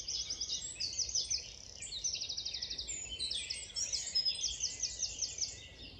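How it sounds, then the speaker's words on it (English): Dawn chorus in Hembury woods in May, dense layered birdsong with wrens, crows and a distant garden warbler, busy overlapping chirps and trills, fairly faint and steady with no voices. "you hear wrens and crows, and in the distance I can hear a garden warbler as well"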